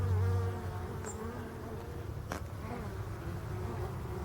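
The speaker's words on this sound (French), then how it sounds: "Ça c'est de l'abeille noire de la forêt." European dark bees (black forest bees) buzz steadily around a hive on a rock in mid-October, a dense close hum of many insects with occasional individual fly-bys.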